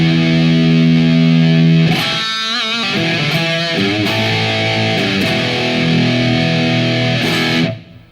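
A heavily distorted electric guitar through an amplifier with the gain cranked high, a sustained chord ringing out, then several struck chords and riffs with thick, saturated tone, ending abruptly.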